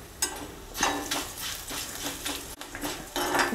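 Coriander seeds tipped into a pan where fenugreek is dry-roasting over medium flame, giving clattering metallic scrapes and a soft crackling roast, with a sharp clank partway through.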